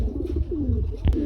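Black Lahori pigeons give a short, low coo close by, with a faint click near the end, over a steady rumbling background.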